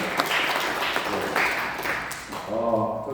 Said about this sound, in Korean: 정말 열정적으로 발제해 주신 우리 김공기 박사님 다시 한번 박수를 드립니다